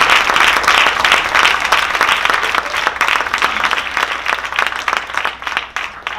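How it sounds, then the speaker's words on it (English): A crowd at a Kwanzaa celebration claps in loud, sustained applause, dense and continuous for several seconds, close to the microphone with no talking over it. "Give that brother some round of applause."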